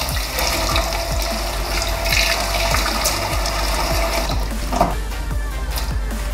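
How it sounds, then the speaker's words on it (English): Running water pours steadily from a tap while Dyson vacuum parts are rinsed, with faint repeated mechanical clicks underneath, close and fairly loud. "I am also going to just rinse these over with some water."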